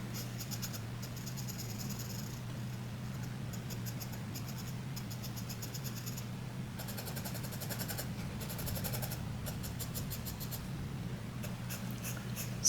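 A soft 4B pencil shades paper in bursts of quick back-and-forth strokes, a faint scratchy rasp that starts and stops over a steady low hum.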